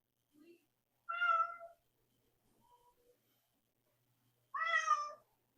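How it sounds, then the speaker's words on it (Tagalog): A house cat meows twice, a clear drawn-out cry and then a louder, higher one a few seconds later, with a tiny squeak before them and near silence between. "Ay, nakong pusa na to."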